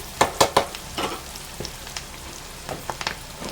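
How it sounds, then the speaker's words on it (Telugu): Ingredients frying in hot oil for pulihora, with crackling sizzle and a few sharp spattering pops, some close together early on, over a faint steady fry. "మనకి బాగా ఫ్రై అవ్వాలి"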